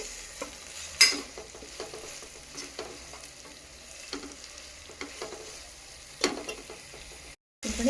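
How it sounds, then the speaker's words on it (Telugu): Ginger garlic paste sizzles with tomato in hot oil for chicken sherva. A steady close hiss runs throughout with occasional stirring scrapes, and a sharp utensil clink comes early on. "ఇప్పుడు ఈ అల్లం వెల్లుల్లి పేస్ట్ని పచ్చివాసన పోయే వరకు వేసుకోవాలి"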